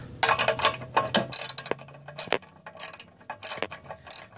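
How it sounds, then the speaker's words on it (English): Ratchet wrench clicking in quick bursts while tightening bolts on a Briggs and Stratton lawnmower, close and fairly quiet, with short pauses between runs of clicks. "I'm going to go ahead and tighten these back up"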